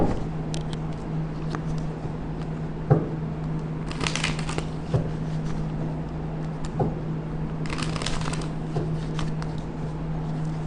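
Tarot cards are shuffled up close in soft papery riffles and shuffles, with a few louder flurries over a steady low hum.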